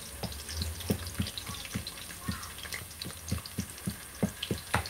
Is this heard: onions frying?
yes